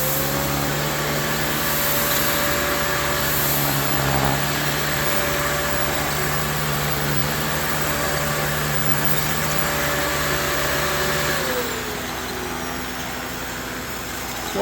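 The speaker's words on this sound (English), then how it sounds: "plugged in the wrong vacuum" A Shark vacuum cleaner runs on carpet with a loud, steady motor whine and airflow roar, constant for the whole stretch, dipping briefly near the end as the pitch shifts, close up and alone without speech.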